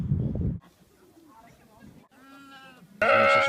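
Sheep bleat in short, wavering cries, a loud bleat at the start and another at the end, with softer bleats and animal noises between them.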